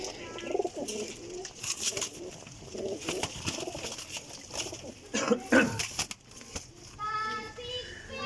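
Pigeons coo alongside scattered bird calls, mixed with nearby voices and handling noise throughout, with a brief rhythmic patter toward the end.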